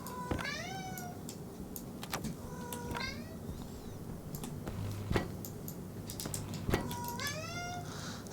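A pet cat meows three times at moderate loudness, each call a rising then falling harmonic cry spaced a few seconds apart, over a steady low electrical hum and scattered light ticks and clicks.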